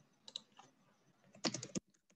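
Soft, irregular clicks of fingers typing on a computer keyboard, a few scattered taps followed by a quick burst of keystrokes, close and quiet.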